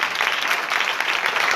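A crowd at an outdoor revival street meeting claps loudly and steadily, a dense, continuous patter of many hands close by.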